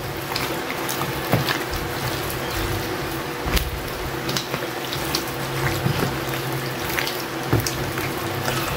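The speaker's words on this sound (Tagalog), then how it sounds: "Pwede tayo maglagay dito kaili ng tubig, konti lang" Water poured into a pot of chicken being cooked, a steady trickling splash with a few small knocks against the pot throughout.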